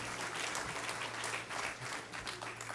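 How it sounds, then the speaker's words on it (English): An audience applauds warmly at a leadership and education lecture event, a dense, steady wash of clapping from a large crowd that fills the whole stretch at an even level. "let's give all those who came before me a warm round of applause"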